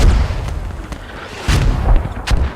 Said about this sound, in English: these are HSR mortars now trying to suppress the approach